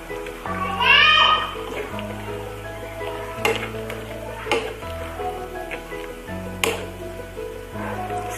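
Toasted coconut stirred into a frying Aceh oyster curry with potatoes in a pan: a steady sizzle with occasional spoon clinks and scrapes, over a constant humming tonal background and a brief voice early on.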